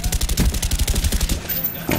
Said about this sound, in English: And it is an AK-47, so that I can use.